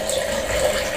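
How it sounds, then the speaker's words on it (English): Water trickling steadily out of a hole in a plastic bottle once its cap is unscrewed, a thin continuous stream heard up close with no talk. "When I open the cap, water is coming out of the hole."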